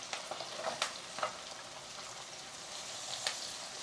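Potatoes and hard vegetables for a curry stir-fry in a pan, giving a soft, continuous sizzle with scattered crackles and a few light stirring knocks, heard fairly quietly with no talking.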